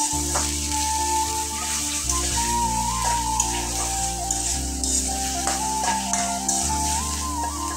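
Onion paste with garlic and ginger sautés in a pan for a beef curry with maan kochu, giving a continuous close sizzle with scattered soft clicks of stirring throughout.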